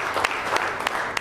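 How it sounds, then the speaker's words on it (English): Audience applause at a stock market trading seminar, a brief burst of many hands clapping together, moderately loud and sustained, with a few louder individual claps standing out. "Give a big round of applause."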